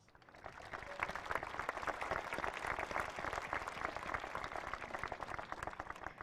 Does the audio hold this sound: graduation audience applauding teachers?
yes